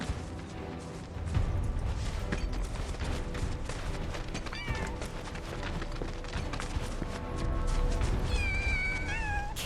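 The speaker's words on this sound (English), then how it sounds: "Kittens?" Kittens meow in the video game Final Fantasy VII Rebirth, with brief high mews coming through a busy mix of game music and effects, including a clearer mew near the end.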